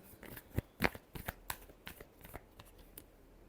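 A deck of tarot cards is shuffled by hand in a string of quiet, quick riffling snaps and flutters, one sharper burst near the start, the rest trailing off into softer taps.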